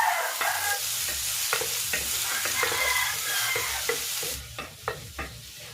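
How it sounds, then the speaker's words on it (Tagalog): Garlic sizzles in hot cooking oil in a heated pan, a steady loud frying hiss with repeated scraping stirs, easing off near the end as the stirring thins out. "Magigisa na ako ng bawang."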